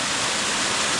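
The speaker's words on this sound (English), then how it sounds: "People enjoy waterfall." Natural waterfall near a village, a steady broadband roar of falling water filling the whole second, loud and close with no voices over it.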